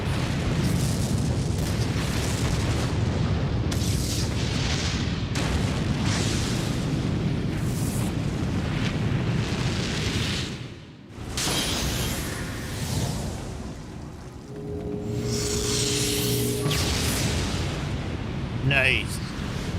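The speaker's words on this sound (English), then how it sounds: "Literally doing an action movie ending where we're escaping from explosions." Rumbling explosions from the Dragon Quest XI: Echoes of an Elusive Age finale escape sequence fill the scene with a loud, continuous roar, briefly dropping away before more booming bursts rise again, with a voice talking over the din.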